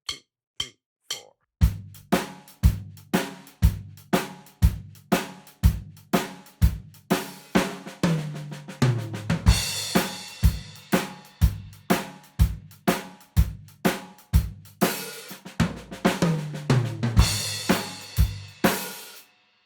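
A drum kit plays a shuffle fill with accented downbeats and upbeats, steady triplet hits on drums and cymbals in a loud, even rhythm that swells with crashes and runs for about twenty seconds without voices.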